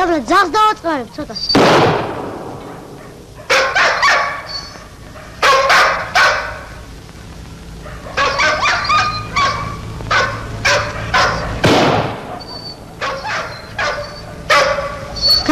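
A dog barks in bursts of sharp, repeated yelps and barks close by, some loud and abrupt, spread across the scene with a few quieter gaps between them.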